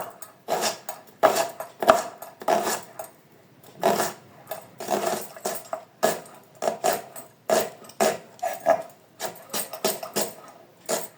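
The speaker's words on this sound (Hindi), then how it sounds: "प्याज को मैं कर दूँगी स्लाइस, बारीक बारीक स्लाइस करेंगे" A knife slices an onion finely on a board in quick bursts of crisp chopping strokes with brief pauses between runs, close and alone without speech.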